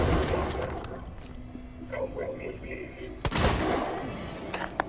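A shotgun is fired at an android in Alien Isolation: a single loud, sharp blast past the midpoint, followed by a decaying rattle, set among quieter game ambience and the sounds of an earlier struggle.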